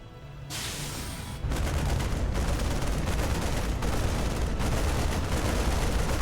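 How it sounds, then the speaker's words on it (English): Loud, dense bursts of rapid gunfire as StarCraft 2 Marines shoot at a flying building, a dull bang opening into sustained, overlapping fire that runs continuously with no talking. "The Marines are trying to shoot down the flying building"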